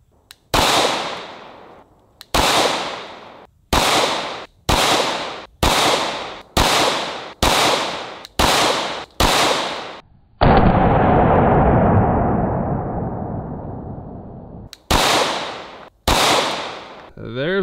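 Rapid series of about a dozen loud 9mm pistol shots fired at a padlock, sharp close cracks with ringing tails, interrupted by a long, loud, sustained burst of noise that fades out before two more shots.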